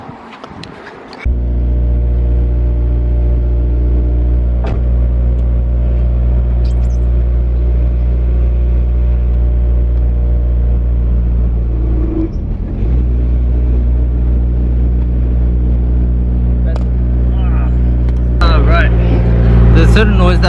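A car's engine drones steadily from inside the cabin while driving, a deep, even hum that starts abruptly and continues throughout, dipping briefly midway, with a person talking over it near the end.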